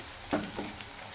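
Chopped onions fry in a hot pan with a steady, soft sizzle, marked by a couple of short stirring scrapes near the start, close by and fairly quiet.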